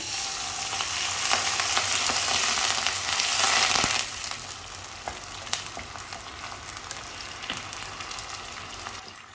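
Green chillies sauté in a pan for rava upma, giving a loud, close, hissing sizzle that eases to a softer crackle partway through, with faint stirring clicks and no voices.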